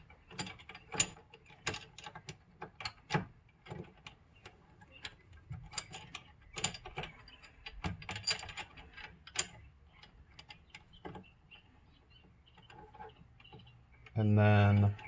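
A ratchet turning a 17mm socket to remove a Yamaha YXZ1000R steering wheel makes quick clicking bursts, close and fairly quiet, with pauses between strokes and a loud thump at the end.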